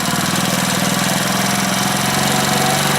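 A Honda Splendor motorcycle engine idles steadily while its fuel-air mixture screw is being adjusted, a close, continuous, even putter running alone for about three seconds.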